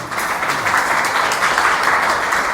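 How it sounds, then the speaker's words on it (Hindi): A congregation applauds at a Hindi-language Christian sermon, steady and loud crowd clapping that holds evenly throughout without a break. "यीशु मसीह के लिए ताली बजा दो।"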